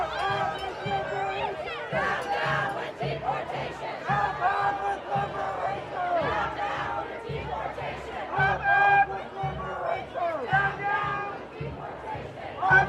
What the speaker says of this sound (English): you're gonna just hear the chanting of the crowd.